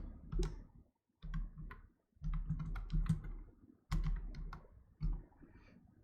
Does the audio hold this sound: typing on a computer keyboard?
yes